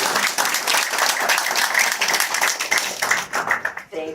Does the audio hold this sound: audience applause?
yes